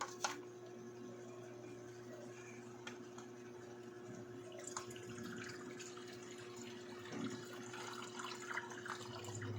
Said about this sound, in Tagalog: So, lalagyan muna natin ng tubig to.